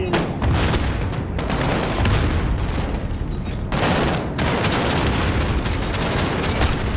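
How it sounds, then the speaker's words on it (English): Repeated grenade blasts and heavy gunfire against a Juggernaut in Call of Duty: Modern Warfare (2019), loud and close, forming a dense barrage of booms with brief lulls before fresh explosions. "Alright, everybody just throw all of your grenades at it."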